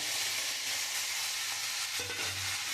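Salt, turmeric and chili powder stirred into green banana and papaya pieces frying in a pan: a dense, even hiss with a brief scrape near the end, and no talking.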